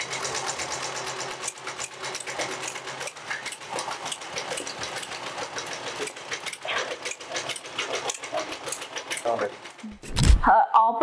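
A computer embroidery machine stitches beads onto fabric with a fast, continuous mechanical chatter at a steady pace. It is loud and close, and a brief clunk and shift in tone come near the end.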